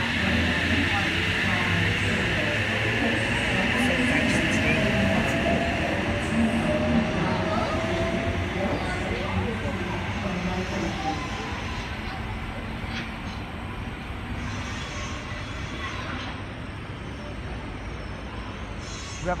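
A Sydney Tangara train pulls into platform 4 at Wolli Creek station on a Cronulla service, with a loud, steady rumble of wheels and motors that eases slightly as it comes to a stop.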